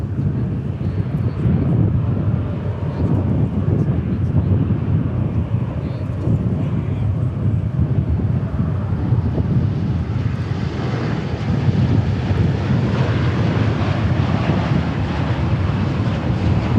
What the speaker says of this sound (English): There is our American Dreamliner from Shanghai.